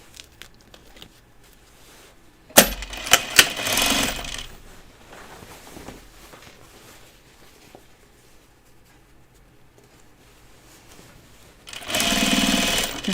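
A sewing machine top stitches the thick side seam of Helen's Closet Yanta overalls near a cutaway pocket, with two short close runs at the start and end separated by quiet handling and rustling of fabric.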